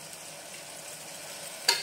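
Garlic, ginger and green chilli paste fries in a pan for lauki chana dal sabzi, a soft steady sizzle under gentle stirring, ending with a brief sharper scrape of the spoon.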